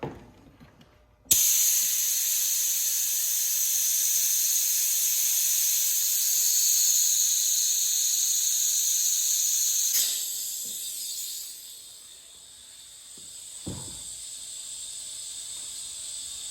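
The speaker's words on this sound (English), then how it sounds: "So what we're going to do is suck out what we can out of here to start with." A hose suction tool draws old brake fluid out of a car's brake fluid reservoir, making a loud, steady hissing suction that runs for several seconds after a sudden start, then thins out, with faint clicks near the end.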